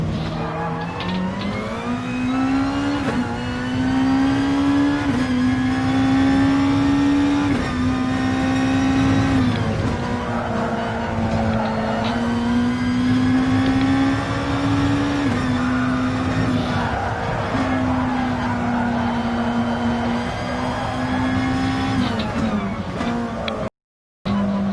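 A Nissan GT-R race car engine in the video game Gran Turismo, racing at Fuji, drones loudly and steadily, its pitch rising and falling through gear changes and cornering, with a brief cut just before the end.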